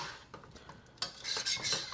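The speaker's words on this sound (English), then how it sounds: "Go around the side there. Kind of deglaze a little bit." Shaoxing cooking wine poured around the side of a hot stir-fry pan to deglaze, giving a close burst of sizzling hiss after a few soft utensil scrapes and clinks, loud and steady to the end.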